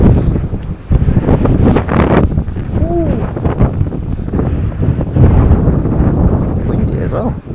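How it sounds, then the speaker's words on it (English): Strong wind buffets the microphone on a Dorset beach, producing a loud, continuous low rumble throughout with brief gusting surges. "Windy as well."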